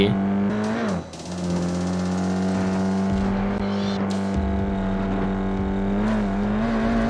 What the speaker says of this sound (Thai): ฝึกการขับรถโคตรวิบากโคตรแฟนตาซี